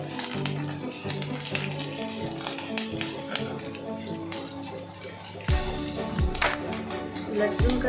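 Garlic and dry red chillies fry in a pan for a chutney, a steady close sizzle and crackle with scattered spits throughout, briefly surging louder midway as the pan is stirred.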